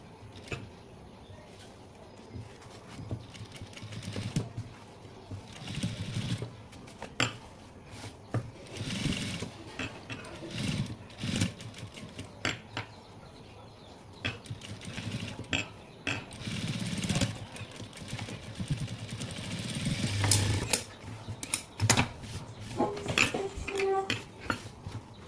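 A sewing machine stitches a stone work blouse in short, repeated bursts of whirring with pauses between runs, fairly close and moderately loud, with no talking.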